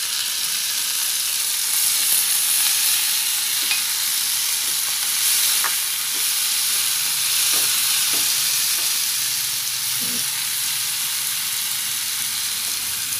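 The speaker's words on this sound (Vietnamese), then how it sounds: "Mình xào cho nó sơ ha các bạn." Steady sizzle of marinated young jackfruit being stir-fried in a pan with golden fried onions, a continuous loud frying hiss with occasional light scrapes and taps of a utensil stirring.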